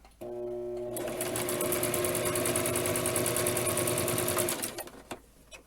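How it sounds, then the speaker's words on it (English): A sewing machine stitches a straight seam on a small Barbie doll dress: a close, fast, even mechanical chatter that starts after a faint hum, runs steadily for about four seconds and then stops. "we're gonna sew a straight line up those. About 1/8 of an inch in."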